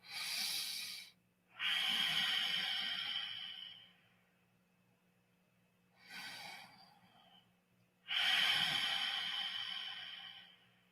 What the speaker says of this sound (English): breathing out slowly and constricting your trachea up here, the neck up here, and then slowly coming out with a sound of an ocean wave.